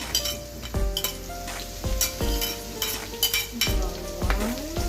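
Garlic and spices sauté in a wok for pork dinuguan, a bright sizzle with repeated clinks and scrapes of a metal utensil against the pan roughly every second, close and fairly loud.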